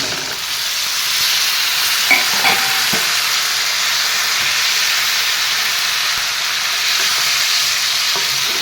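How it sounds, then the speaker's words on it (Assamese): Potatoes and cauliflower are stirred in a fish curry over steady, loud frying with a constant hiss and sizzle, broken by a few faint scrapes and clinks of a spoon against the pan, up close and without talk. "এনেকৈ তলপৰ কৰি এফালৰ পৰা লৰাই লৰাই দিম।"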